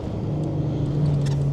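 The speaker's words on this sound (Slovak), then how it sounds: "Ide auto." A car comes closer on a rural road during a storm-damaged timber outing, a steady low engine rumble that swells slightly toward the end, with no talk.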